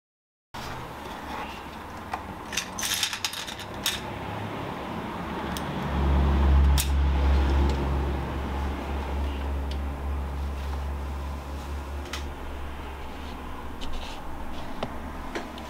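Sewing machine running a 1 cm side seam on an Admiral Grace pattern garment, a steady low mechanical hum that swells louder midway and carries on continuously with small ticks and clicks over it, no talking.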